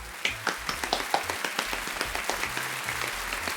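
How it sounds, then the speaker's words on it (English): Applause at an annual youth film festival awards ceremony, greeting the winner of the Graham Livingston Award: a dense, steady patter of many hands clapping, fairly close, with a few sharper individual claps standing out. "Round of applause, of course."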